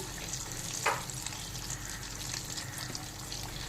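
Spice paste for vegetarian Bengali begun bahar fries in a pan with water, salt, chilli and turmeric powder, giving a steady close sizzle with a brief scraping stir partway through.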